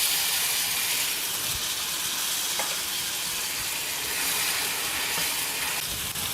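Tomatoes frying in a pan for a ginger gravy give off a constant, dense sizzle with faint stirring scrapes, heard close and steady throughout.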